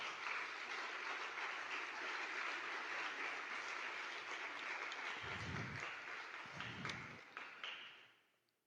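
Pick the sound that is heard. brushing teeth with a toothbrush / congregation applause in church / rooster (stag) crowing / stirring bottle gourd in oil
congregation applause in church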